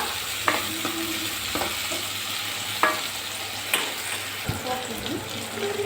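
Onion and tomato with turmeric fry in a pan, giving a steady close sizzle broken by occasional sharp scrapes and clinks of stirring.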